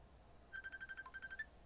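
A phone ringing with a rapid electronic trill of about a dozen short pulses in one brief burst, faint and alone against quiet background.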